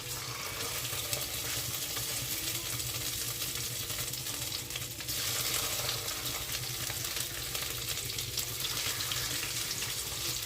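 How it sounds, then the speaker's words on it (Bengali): Singhi fish fry in a pan of hot oil with a continuous, even hiss and sizzle, close and steady throughout, with no talk. "দিয়ে মাছগুলো ভেজে নেওয়ার জন্য দিয়ে দিচ্ছি"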